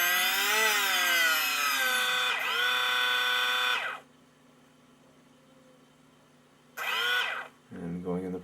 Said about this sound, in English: Okay, we've got servo action, and the tail's working very nicely.